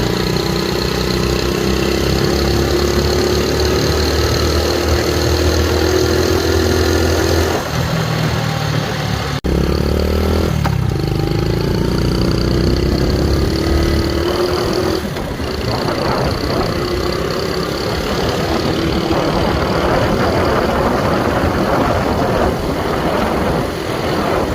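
Honda CT70 minibike, revived after sitting for 20 years, running on a test ride: a close, loud buzzing single-cylinder engine with rising and falling revs, a brief dip and shift partway through, then rougher, choppier running toward the end.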